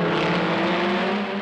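Renault Alpine A210 race car with a 1300 cc Renault Gordini engine at the 24 Hours of Le Mans, a sustained high-revving engine drone heard briefly at close range with no talk.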